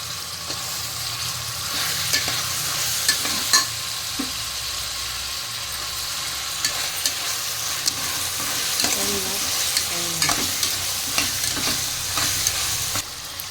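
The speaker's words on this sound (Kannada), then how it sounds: "ಟೊಮೊಟೊ ಹಾಕಿ ಚೆನ್ನಾಗಿ ಫ್ರೈ ಮಾಡಿ. ಅದರ ಜೊತೆನೇ ಬದನೆಕಾಯಿ ಹಾಕ್ಕೊಳ್ಳಿ." Tomatoes and brinjal stir-frying in a pan for a vangi bath dish, with a steady close sizzle and occasional scrapes and clinks of a spoon stirring, no talking.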